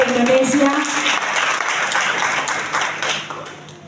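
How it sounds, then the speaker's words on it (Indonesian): A church crowd celebrating a women's fellowship anniversary in Saumlaki applauds in a loud, dense burst that tapers off, with voices and music mixed in underneath. "Tepuk tangan dulu untuk wanita Bethel Indonesia."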